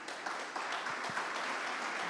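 A church congregation applauds during a Spanish-language sermon, a soft, distant patter of clapping held steady at low level for a couple of seconds.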